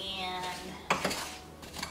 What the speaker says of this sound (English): Now you're just going to mix this until the apples get coated in all that